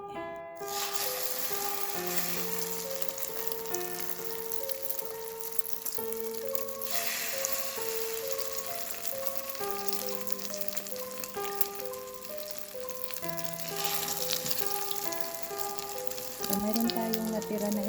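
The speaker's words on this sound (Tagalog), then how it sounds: "maglagay lang tayo ng mantika. Wait lang natin mag-init yung ating kawali." Cooking oil heating in a frying pan gives a steady close sizzle and crackle that runs the whole time, with a tonal melody playing over it.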